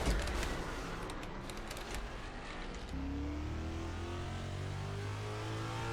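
Race car engines roar continuously in NASCAR Racing 2003 at Atlanta Motor Speedway, 2009 Car of Tomorrow stock cars with wings, a dense field droning loudly, with a nearby engine's pitch climbing steadily in the second half as it accelerates.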